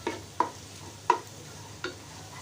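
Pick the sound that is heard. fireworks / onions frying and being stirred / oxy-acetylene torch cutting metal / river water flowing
onions frying and being stirred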